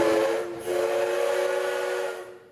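Steam locomotive DT668 sounds its whistle in two steady tonal blasts, the first short and the second long, loud and close, with no talk over it.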